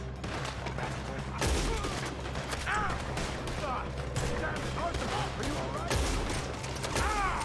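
Rapid game gunfire from a Red Dead Redemption 2 shootout crackles in dense, repeated bursts of loud sharp shots, with voices heard among the volleys.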